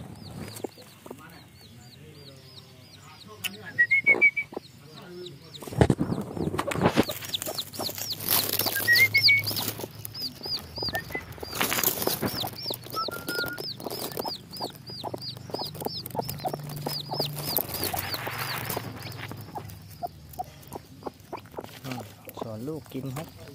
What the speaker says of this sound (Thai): ลูกร้องเจี๊ยบเจี๊ยบแม่ก็เรียกมาคุย